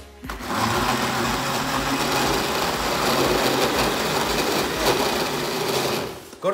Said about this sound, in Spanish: Para que no se escuche el ruido de la licuadora.